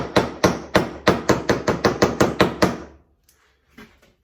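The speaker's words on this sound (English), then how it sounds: "sometimes you gotta tap it a little bit with a little hammer" A small hammer tapping a handle onto a knife: about eleven sharp, close metallic knocks in a quick, even rhythm, then a pause and one faint final tap.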